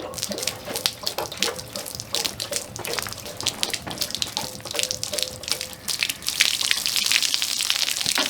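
Water rushes and splashes out of an open drain plug on an RV water heater, a steady close gushing stream with bursts of spatter that grows louder toward the end, with no one talking.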